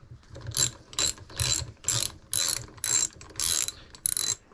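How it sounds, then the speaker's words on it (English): Socket ratchet backing an 11mm nut off the damper shaft of a DVO Topaz shock, giving eight close, even bursts of rapid clicking, each a short, loud pass of the pawl with brief gaps between. "So we'll just grab our socket."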